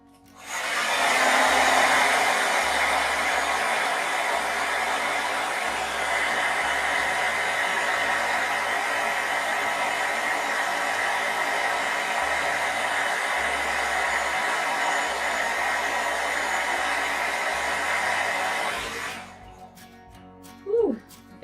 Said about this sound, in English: Then the hair dryer one more time.